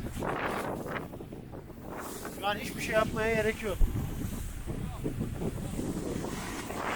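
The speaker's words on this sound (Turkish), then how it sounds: "Yemin ediyorum rüzgar arkamıza aldık." Strong wind on a snowy mountain at Palandöken during snowboarding, amid blowing snow, buffets the microphone in a steady rumbling roar, with people talking over it.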